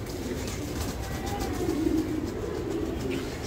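Two female racer pigeons give soft, low cooing calls at close range, a gentle murmur rising briefly in the middle over a quiet room background.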